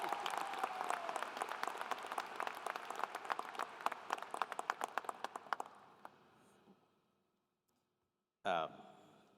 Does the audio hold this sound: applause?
yes